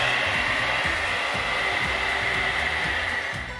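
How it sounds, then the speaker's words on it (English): A hair dryer blows hair dry after color-changing dye is applied, giving a loud, steady whooshing roar with a pulsing motor hum that continues throughout. "The instructions say that I need to blow dry my hair now, so I'm just gonna run it."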